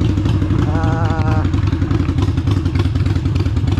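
A Harley-Davidson Sportster motorcycle engine runs continuously up close, a thick, steady low rumble with a brief warbling tone early on and a voice faintly underneath.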